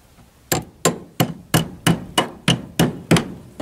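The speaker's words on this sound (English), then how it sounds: "Right, get a hammer on that." Nine sharp hammer strikes on metal ring out at a steady, fairly quick rhythm, each a bright clang that decays quickly, during a Land Rover mud guard repair.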